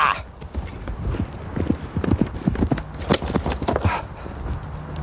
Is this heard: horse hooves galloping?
yes